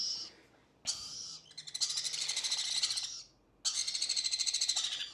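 Pet lory and sun conure chicks give harsh, buzzy begging calls in three loud close bursts, the longest a rapid pulsing chatter, separated by short quiet gaps.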